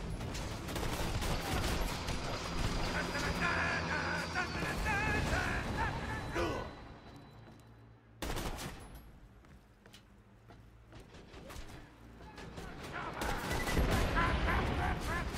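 Gunfire in the video game Borderlands 2: dense bursts of rapid shots, then a lull and one sharp crack, then firing builds again, with a voice talking at moments.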